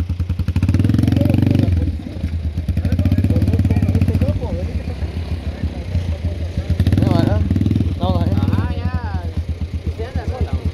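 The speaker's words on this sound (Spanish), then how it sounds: "Traen la moto para acá." A motorcycle engine runs steadily nearby with a low, throbbing rumble, while people talk over it in Spanish.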